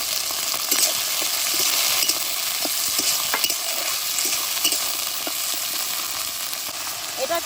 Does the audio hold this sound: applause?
no